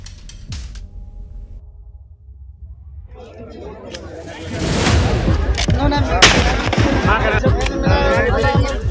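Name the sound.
gunfire from guns by a pond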